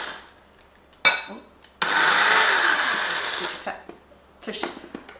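A small electric coffee grinder grinds spices, whirring in a short burst of a couple of seconds, close by, with clicks and handling noises before and after.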